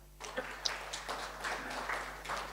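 Audience applause in a company hall at a talk on building momentum in 2026, a broad wash of hand claps starting abruptly and holding steady for a couple of seconds at moderate distance, with no talk over it.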